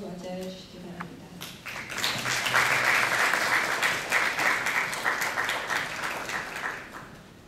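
Audience applause at an architecture and urban forum in Korea as a speaker from the Ministry of Land, Infrastructure and Transport is welcomed to the stage, a dense, steady clapping that swells after a brief opening and holds for several seconds before tapering.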